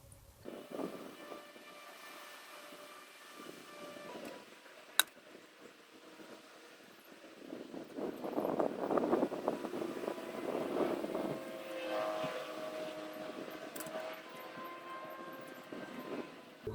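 An ambulance helicopter passes overhead as a low, steady rotor drone, faint at first, then swelling louder in the middle before fading again, with no talking.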